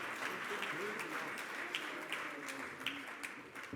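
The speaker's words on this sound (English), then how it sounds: "Please give them a round of applause." Audience applause for panelists at a Free State SMME and co-operatives partnership dialogue, a steady wash of clapping at moderate distance, with faint voices underneath.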